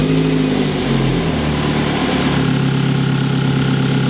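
Mazda 3 engine idling steadily just after an oil service, a continuous low rumble with a smooth, even drone heard close up.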